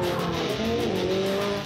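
Ferrari sports car accelerating hard, engine note climbing through rising pitch as the gearbox shifts, loud and close for a short burst with no talk.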